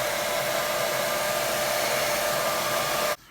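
A hair dryer blows steadily over a wet watercolour painting, a loud, constant close-up whoosh that cuts off abruptly at the end.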